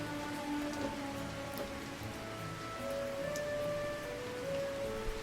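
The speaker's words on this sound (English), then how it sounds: "Oh, it's raining." Steady rain falls in the Kitaria Fables video game, a dense, even hiss of drops at moderate level over soft game music tones, with no voices.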